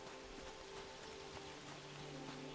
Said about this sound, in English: Is that rain again? It's starting to rain.